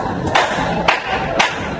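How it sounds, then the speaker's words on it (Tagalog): Three loud, sharp claps ring out in a slow, even rhythm over a noisy crowd-like background. "bigyan natin siya ng 3 palakpak"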